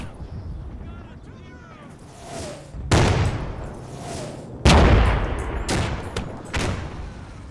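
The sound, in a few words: mortar and 105mm artillery fire, Combat Mission video game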